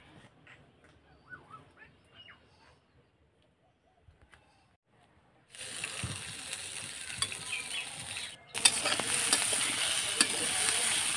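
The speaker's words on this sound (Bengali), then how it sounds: "এই মাছগুলো রান্না করার জন্য আমি আগে খুব ভালোভাবে ভেজে নিচ্ছি।" Sea fish fries in a pan. After a quiet opening with faint scattered background sounds, a loud, close sizzle bursts in midway, briefly dips, then surges back strong and continuous to the end.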